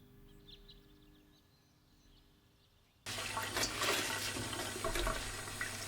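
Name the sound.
washing wild herbs in water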